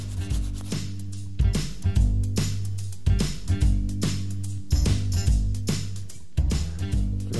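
Repeated rhythmic rubbing strokes of sanding and polishing on a dried taxidermy chamois head mount, each pass a close, gritty scrape in a steady back-and-forth pattern, with no voices.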